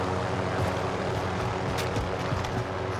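A helicopter in a multiplayer shooter video game drones with a loud, continuous rotor and engine roar, steady throughout with no pauses.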